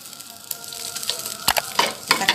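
Rice and coconut milk in a pot on the stove for Indonesian yellow rice, crackling and bubbling continuously with scattered louder sputters and pops, close up.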